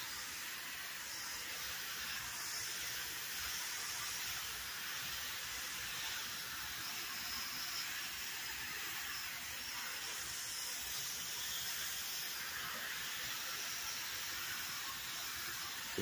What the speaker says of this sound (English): take my sprayer here and moisten these down real good.